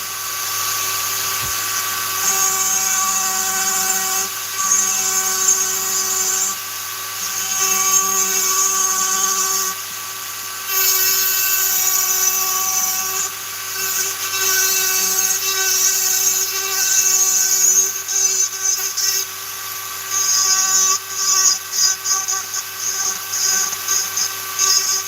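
A rotary tool fitted with a fine-detail taper burr carves poplar wood with a loud, sustained high-pitched whine. The pitch dips and pauses briefly as the burr bites and lifts, and no voices are heard.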